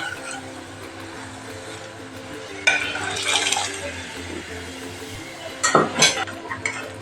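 Cooked kidney beans go into roasted masala for an oil-free rajma dish, with a couple of close bursts of wet clattering and spoon-against-pan scraping over a steady kitchen background.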